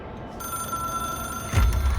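A telephone ringing inside the video game Control, a thin sustained electronic bell tone over a quiet hum, joined by a heavy low thump near the end.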